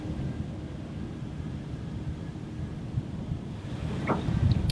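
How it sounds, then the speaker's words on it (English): Wind blows over open water, a steady rushing hiss with low rumbling buffets on the microphone that grow stronger near the end, with no voices. "Fortunately, the wind's dropped down a little bit tonight"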